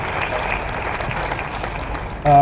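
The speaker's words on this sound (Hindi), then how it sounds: "एक बार जोरदार तालियां हो जाए" Audience at a company's national stage event giving steady, fairly loud applause that carries on throughout and then gives way abruptly to a sharp tonal sound at the end.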